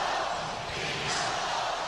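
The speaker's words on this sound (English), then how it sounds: "Listen to this crowd at the Delta Center." A packed basketball arena crowd at the Delta Center roars and chants during a 1998 NBA playoff game against Michael Jordan's Chicago Bulls, a dense, steady wall of many voices that swells slightly near the end.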